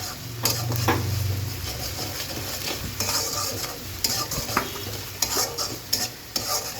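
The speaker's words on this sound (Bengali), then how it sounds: "এক টেবিল চামচ পরিমাণ রসুন বাটা দিয়ে দিচ্ছি এখন খুব ভালো করে একটু ভেজে নিব" Garlic paste frying in a pan, stirred with a utensil: a soft continuous sizzle under repeated scraping and tapping strokes against the pan, close and moderately loud.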